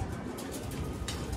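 Racing pigeons at a loft during a Tarlac training return, giving soft, low continuous cooing close by with a faint breathy wash of background noise, no voices.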